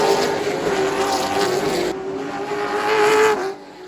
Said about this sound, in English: At racing speed, it doesn't take long to get around this quarter-mile oval